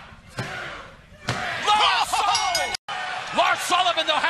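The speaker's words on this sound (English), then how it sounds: "Lars Sullivan hoisting up Killian Dane, the freak accident on top of a couple of chairs" A wrestler is hoisted up and slammed down onto a couple of steel chairs during a WWE match, giving loud impacts and metallic clatter amid crowd noise and excited commentary.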